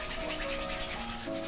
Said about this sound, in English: I'll just continue scrubbing this